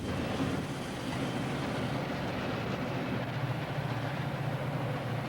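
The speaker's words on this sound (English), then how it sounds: "The Salad Bowl Express rolls through the heartland of the industrial Middle West." The Salad Bowl Express, a freight train crossing the industrial Middle West, rolls along the rails with a steady, low rumble and no clear clatter of wheels on joints.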